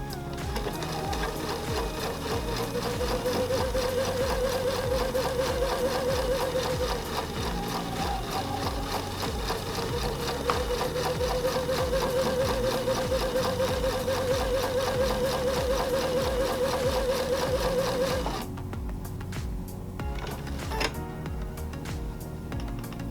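A sewing machine stitches a Flying Geese quilt block with a steady, fast mechanical chatter. The whirring runs continuously for most of the span, then the stitching stops and a quieter hum remains.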